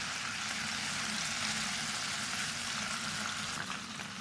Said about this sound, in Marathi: आता 2 ते 3 चमचे परत मी यात तेल घालत आहे।